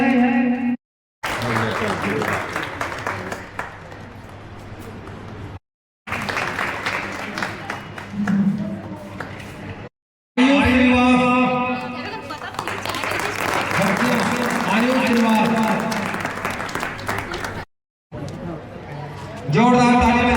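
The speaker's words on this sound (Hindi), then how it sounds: "जोरदार ताली बजाइए सरस्वती शिशु बच्ची के लिए।" Loud applause from an audience at a school National Science Day event, rising in bursts between stretches of an announcer talking over a microphone; clapping swells strongly in the middle and continues under speech.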